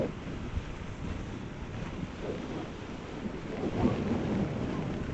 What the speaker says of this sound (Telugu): గాలి మాత్రం బీభత్సంగా ఉంది.